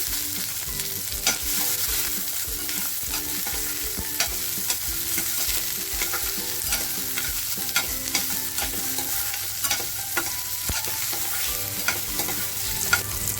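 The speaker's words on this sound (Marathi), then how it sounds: "अद्रक टाकते लसूण आणि काजू जे घेतले होते तेही टाकले" Chopped ginger, garlic and cashews frying in oil for an egg tikka masala, with a constant close sizzle and frequent scraping and knocking of a spatula stirring them.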